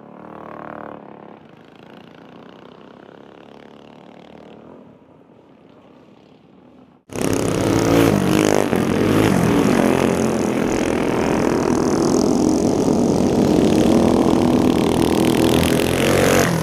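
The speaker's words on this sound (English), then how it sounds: "we're getting ready to getting ready to line them up, and we're gonna go racing." Racing kart engines rev at a dirt track during Friday night racing, first a faint distant drone, then a sudden loud, sustained roar of several engines close by that holds steady.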